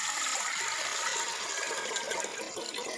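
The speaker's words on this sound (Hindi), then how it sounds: "एक देगची में 2 लीटर पानी शामिल किया है" Two litres of water pouring into a cooking pot for a chickpea greens recipe, a steady bright splashing gush that runs continuously without pause and no speech.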